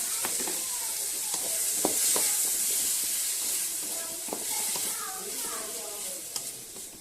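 Grated coconut and masala fry in a pan, a continuous hissing sizzle broken by irregular scraping and tapping as the mixture is stirred and turned.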